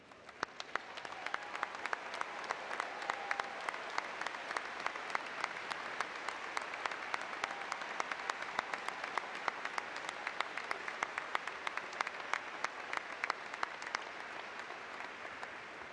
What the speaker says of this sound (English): I would ask all UNI alumni in the audience to please stand and applaud our newest members